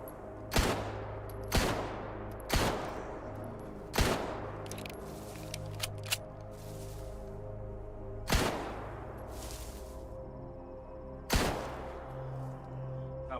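Gunfire in S.T.A.L.K.E.R. GAMMA, six or seven loud single shots spaced a second or several apart, each with a sharp crack and ringing decay over a low steady background hum, no talk.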